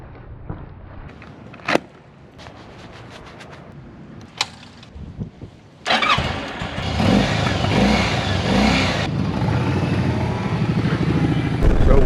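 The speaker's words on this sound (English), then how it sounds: "now we're loading up the motorcycles and heading that way" Motorcycles riding on the open road, a steady loud engine roar mixed with heavy wind buffeting after a few sharp knocks, continuing without pause to the end.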